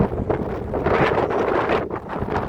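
Strong wind blows steadily across a mountainside in misty season, a loud, continuous gusting roar buffeting the microphone with brief dips, no voices.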